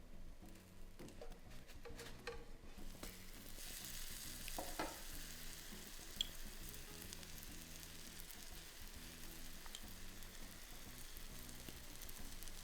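French toast sprinkled with cinnamon sugar crackles in a frying pan, a continuous close sizzle with scraping and stirring bursts early on, then an even hiss.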